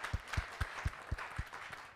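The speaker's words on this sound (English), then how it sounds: "I think we give Pontus a big applause" Audience clapping for a speaker at a university livestream event, a steady run of about eight sharp, evenly spaced claps at moderate distance, thin and sparse rather than a full crowd ovation.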